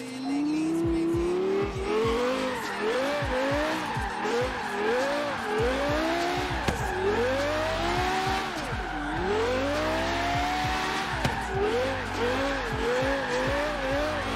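A Lexus in Forza Horizon 3 racing game, engine revving up and down through repeated gear shifts with rising and falling pitch, punctuated by tire squeals and skids, loud and continuous.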